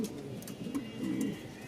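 Pigeons kept for sale in Mirpur, Dhaka coo softly with low, rolling, throaty calls over about two seconds, close but quiet and heard without talk.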